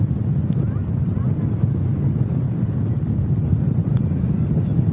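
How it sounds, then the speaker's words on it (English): Steady wind roaring across the microphone at Manchester Airport, a dense low rumbling buffet that never lets up, loud and close throughout. "I don't know how audible that wind is, but it's just been turned up."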